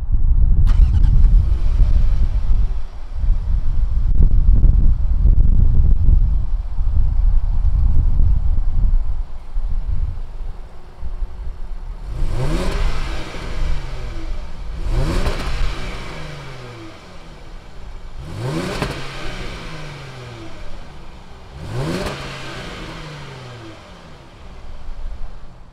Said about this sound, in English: Let's fire this up and see what this supercharged V6 sounds like.